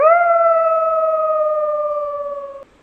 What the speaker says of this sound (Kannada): ದೂರದಲ್ಲಿ ನಾಯಿಗಳು ಬೊಗಳ್ತಾ ಇರೋ ಸೌಂಡು